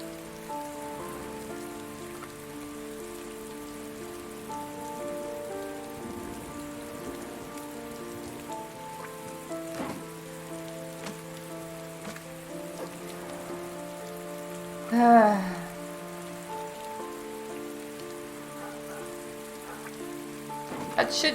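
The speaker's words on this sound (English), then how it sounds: "I love the rain." Heavy rain patters steadily on outdoor surfaces throughout, with a faint tonal hum and a brief thump partway through, and no talking.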